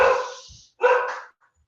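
A dog barks twice at someone at the door, two loud close barks with a short pause between them and no talking.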